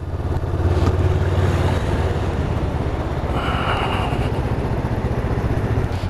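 Honda Rebel motorcycle, sharing its engine with the CB500X and CB500F, ridden through town, its steady engine drone loud and close with constant wind and road roar and no talking.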